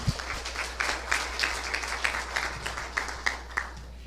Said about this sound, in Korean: 여러분의 힘찬 박수로 시작하겠습니다